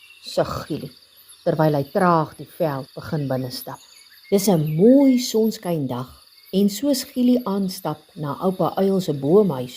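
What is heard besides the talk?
cicadas singing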